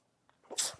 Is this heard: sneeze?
yes